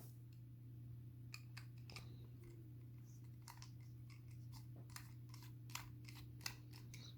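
Plastic clicks and small scraping snaps as a Tamagotchi Connection case is pried open for a battery swap, scattered brief taps over a steady low hum, no speech.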